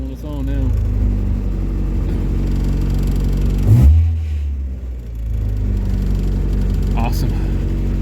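A 1994 Mazda Miata engine with a crank-no-start fault idles steadily on its own, a continuous low rumble with a brief louder surge midway, while people talk nearby.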